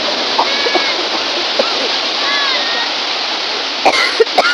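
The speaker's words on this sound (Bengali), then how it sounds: "দাদা হেভি ঢেউ নিচ্ছে, দেখেন কি বড় বড় ঢেউগুলো নিচ্ছে দেখেন।" Big sea waves breaking on a beach, a steady loud roar of surf and rushing water with splashes, while people's voices and shouts rise faintly over it.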